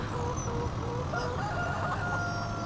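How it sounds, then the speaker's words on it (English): A video game rooster crows faintly in the distance over a steady low rumbling background, with soft chicken clucks mixed in. "chickens are happy, or the rooster is."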